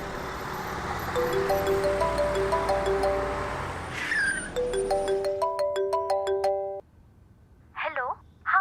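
A mobile phone ringtone plays a repeating melodic tune that rings on unanswered, pausing briefly and then resuming, with faint road noise beneath and a short vocal sound near the end.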